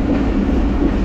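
A Hazara Express train rumbles along the rails, a loud, steady rolling clatter from close by that continues through the whole moment.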